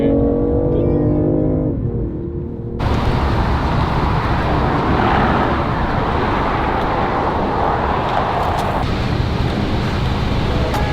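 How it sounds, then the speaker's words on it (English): A Tesla car draws up alongside in traffic, its broadband road and wind rush swelling loudly and steadily for several seconds, while voices talk over it. "This Tesla just pulled up on us"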